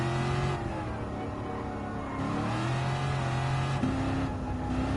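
A historic sports car engine in Gran Turismo 7 revs loud and close during a Historic Sports Car Masters race, with rising and falling pitch through gear changes and a continuous raspy drone and no talking.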